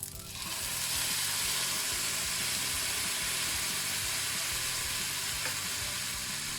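Rice cooking in prawn broth in a pan, giving a loud, steady sizzle and bubbling hiss that swells in at the start and holds without a break, close up and with no talk.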